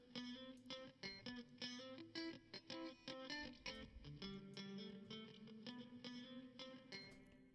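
A sound processed through a Kilohearts Convolver convolution reverb with a stretched, much longer tail: a rapid sequence of bright tonal hits blurring into a washy, reverberant sustain, quiet and close, with no talk.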